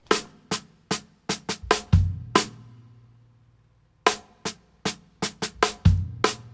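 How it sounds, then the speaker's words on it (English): Crisp snare drum hits in a syncopated pattern, two bursts of accents separated by a short pause, loud and close with no talking. "just hitting the snare as normal without the scratch would sound like this"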